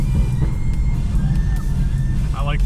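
A Miata fitted with a 5.0 Coyote V8 rumbles low and heavy from inside the cabin while downshifting, a loud continuous engine drone with a brief voice near the end.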